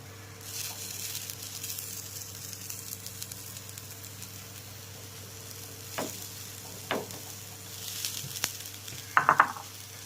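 Vegetables dropped onto an onion uttappam frying on a hot pan, a soft steady sizzle with a few scraping stirs and small clinks of a utensil near the end, no talking.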